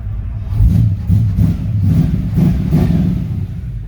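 A 1950 Ford F1 truck with a 351 Windsor V8 and Cherry Bomb mufflers rumbles at idle, then is blipped in repeated throaty revs, loud and close.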